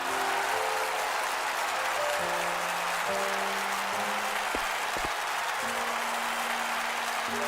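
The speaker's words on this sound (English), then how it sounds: "the pair left the stage, to the sound of thundering applause." Thundering applause rises as two dancers leave the stage after a dance performance in the video game Octopath Traveler II, a dense, steady wash of crowd clapping over soft sustained music tones throughout.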